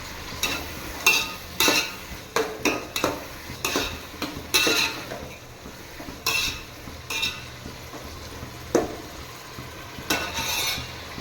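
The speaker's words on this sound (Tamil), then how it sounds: "தக்காளி ஓரளவுக்கு வதங்கிட்டு இருக்குது" Tomatoes sauté with spice powder in a pan for a mixed millet rice dish; a spoon scrapes and clatters in repeated uneven strokes over a soft, constant sizzle.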